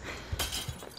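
A glass shatters in one sudden, bright crash that bursts in partway through and then rings and rattles out over a steady background hiss.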